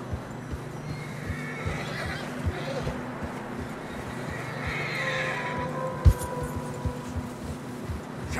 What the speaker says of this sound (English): Horses are struggling. Yeah, a lot of fresh snow here.